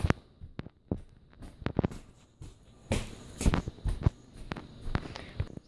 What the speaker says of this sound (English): Five Nights at Kelchelleb's top 5 noises. First up, footsteps.